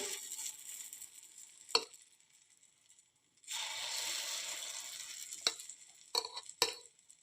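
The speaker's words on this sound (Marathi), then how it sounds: "आपे पात्रामधील तेल गरम झालं की एका छोट्या चमच्याने आपल्याला हे बॅटर घालायचं आहे" Mung dal batter sizzles in hot oil in an appe pan, a soft frying hiss broken by a quiet pause, then a fuller sizzle with a few sharp clicks and taps near the end.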